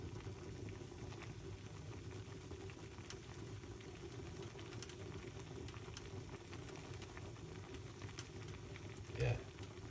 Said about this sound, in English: Now I'm gonna make it boil up too much.